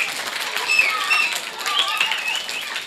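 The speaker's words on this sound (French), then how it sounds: "Tout le monde applaudit très, très fort." An audience at a school event for International Women's Day in Tunis applauds, a steady wash of clapping and cheering voices lasting the whole stretch, moderately loud.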